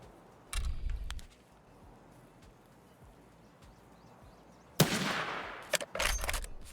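Suppressed gunfire in Escape From Tarkov comes as two short, muffled bursts separated by a few seconds of near quiet, the second burst louder and followed by a few sharp cracks.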